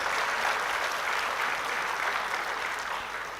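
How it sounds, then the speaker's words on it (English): Sustained audience applause fills an awards ceremony hall honouring Good Samaritans, a thick, even roar of many hands clapping that tapers slightly at the end. "Idam big round of applause, sir."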